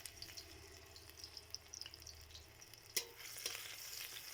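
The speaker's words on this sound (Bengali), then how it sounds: "এখন এর মধ্যে দিয়ে দেবো পেঁয়াজ কুচি, কাঁচা লঙ্কা কুচি।" Chopped onion and green chilli frying in hot oil in a pan, a soft, quiet sizzle with scattered crackles and a sharper clatter near the end.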